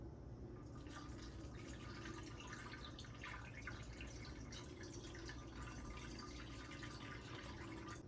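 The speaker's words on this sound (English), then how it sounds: "So I'm just going to carefully start pouring." Home-brewed kombucha pours steadily through a funnel into a bottle, a continuous liquid trickle and splash with fine dripping, close and constant.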